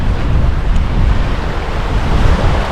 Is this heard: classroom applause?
no